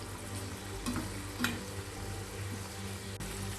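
Tuna fish frying in a pan on the stove, a steady soft sizzle running throughout with a couple of brief louder crackles, no one speaking.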